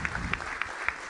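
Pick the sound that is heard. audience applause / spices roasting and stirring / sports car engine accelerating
audience applause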